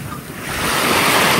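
Sea waves wash onto a beach at a Jamaican resort, a steady broad roar of surf building louder over the short stretch, with wind noise and no voices.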